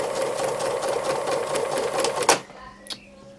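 A sewing machine stitching free motion embroidery on a hanging flower section runs in a fast, steady mechanical whir, then stops with a clunk and a brief click, heard close and alone.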